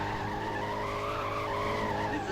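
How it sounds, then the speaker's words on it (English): A car spins its wheels doing burnouts on snow in a video game, a steady loud engine drone with skidding tire noise running throughout. "do you not see me just doing burnouts over here?"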